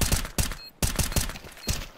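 Rapid bursts of gunfire from a first-person shooter on the Anubis map, loud and close, firing in several quick volleys separated by brief pauses.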